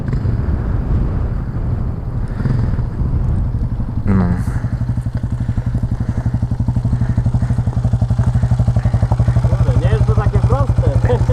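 A quad bike engine idles and revs close by, a rough steady drone with wind buffeting and people talking over it.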